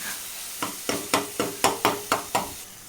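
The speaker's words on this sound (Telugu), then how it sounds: "టమాటా ముక్కల్ని మధ్య మధ్యలో ఇలా కలుపుతూ మాడకుండా ఉడికించుకోవాలి." Tomato pieces frying in oil are stirred with a utensil, giving eight or so evenly spaced scraping swishes over a soft, steady sizzle.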